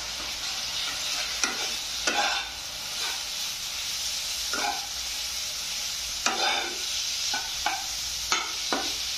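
Chow mein noodles are stirred in a frying pan over a constant hiss of frying, with repeated bursts of spatula scraping and tossing at irregular intervals, close and fairly loud, no talking.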